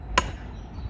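A sledgehammer taps an axe into a hedge stem during city hedge laying, making a single sharp, close wooden knock that fades quickly.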